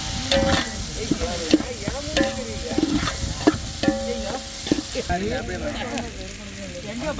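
Vadagam fries in hot oil for a fish curry, hissing steadily while a spoon clinks and stirs at a close distance, with a voice talking over the cooking.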